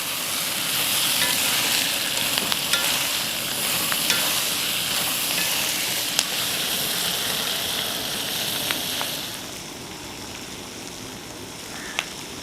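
Ivy gourd pieces frying in a pan are stirred, giving a steady loud sizzle with scraping strokes and occasional sharp clicks of the utensil, easing slightly toward the end.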